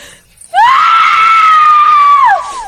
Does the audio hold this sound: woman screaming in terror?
yes